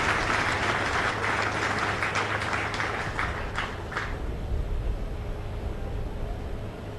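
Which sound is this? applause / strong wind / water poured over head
applause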